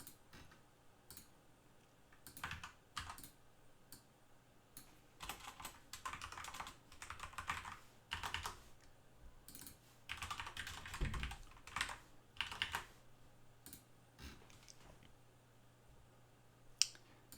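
Typing on a computer keyboard with only the left hand, in irregular bursts of quick keystrokes separated by short pauses, close and fairly quiet with no talking over it.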